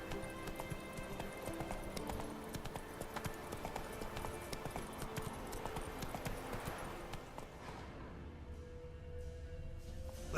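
Roach, Geralt's horse in The Witcher 3, clip-clops along in quick, regular hoofbeats over game music and ambience, and the footfalls thin out and fade near the end.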